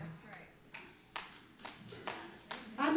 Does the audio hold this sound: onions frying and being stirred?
no